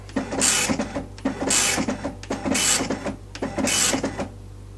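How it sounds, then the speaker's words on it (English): A printer connected to an Apple IIc prints in four rhythmic bursts of buzzing, rattling print-head passes, each about half a second long with short pauses between, close and fairly loud, with no talking. "There you go, printing."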